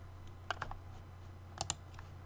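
A few quick, quiet computer keyboard keystrokes sound in two small bursts, close and light against a faint background hum, with no talking.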